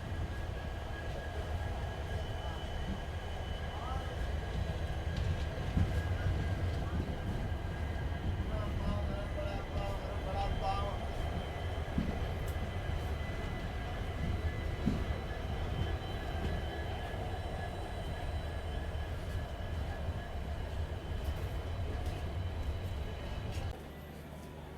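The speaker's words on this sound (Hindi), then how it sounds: "अभी ट्रेन के अराइवल कोलम रेलवे स्टेशन पे हो चुके हैं।" Steady low rumble of a train rolling into Kollam railway station and slowing, with faint squeals and clatter, continuous for most of the clip before dropping off near the end.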